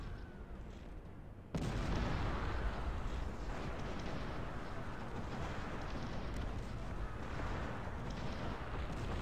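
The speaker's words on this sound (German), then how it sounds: "Die war mit ihren Kanonen" Cannon artillery fire in the strategy video game Cossacks: Back to War, a dense, continuous roar of overlapping booms and rumbling blasts that surges in loudly after a brief quieter opening and keeps up without pause.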